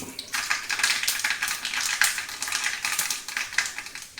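Mustard seeds crackle and pop in hot coconut oil in a kadai, a steady stream of sharp, close spitting bursts with no talk over them.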